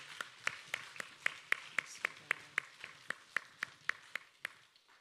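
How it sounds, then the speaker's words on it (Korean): Applause rises during a Korean Sunday church worship service as a single close, steady clap repeats evenly about four times a second, crisp and isolated against a quiet room. "우리 하나님께 큰 영광의 박수 올려드립니다."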